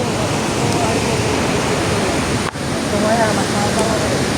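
River water flows loud and continuous through a tunnel, a dense rushing roar that fills the whole clip with a brief dip near the middle.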